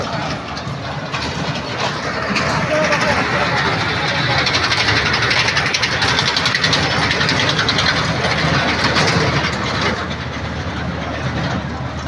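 A steady engine rumble with rattling, like a train running, continuous and loud, with a faint hiss over it.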